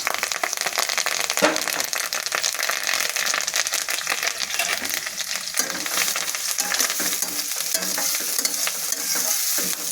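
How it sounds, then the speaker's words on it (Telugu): Chopped onions, green chillies and curry leaves frying in hot oil with cumin for egg fried rice, a loud steady sizzle with scraping stirs of a spoon throughout, close and without talk. "ఇప్పుడు కొంచెం ఉల్లిపాయలు, పచ్చిమిరపకాయ ముక్కలు వేసుకోవాలి. కరివేపాకు వేసుకోవాలి."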